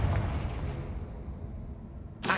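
A Confringo blasting spell exploding in a Harry Potter video game: a deep, rumbling boom that slowly fades, followed by a sharp new burst right at the end.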